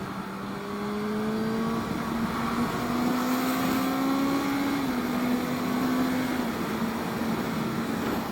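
A Honda CB650F motorcycle engine drones steadily while riding, a smooth sustained tone that rises slightly and then eases back with one small shift in pitch, constant and fairly close, with wind noise and no talking.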